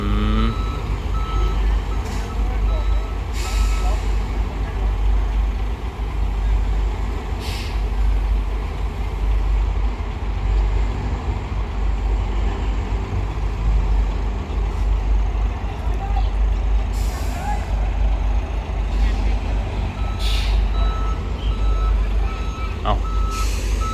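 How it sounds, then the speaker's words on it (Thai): A Volvo truck reverses, its beeper sounding in a regular repeating pattern over a deep idling engine rumble, with a few hisses of air brakes and voices in the background. "ไม่ใช่รถน้ำมันครับ อันนี้เป็นวอลโว่"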